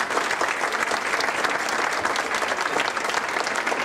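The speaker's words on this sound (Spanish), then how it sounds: "un aplauso para ellos, por favor." An audience gives sustained, even applause for the choreographers and costume makers of a regional dance group at a municipal festival in Bustamante, a dense patter of many hands with no voices over it.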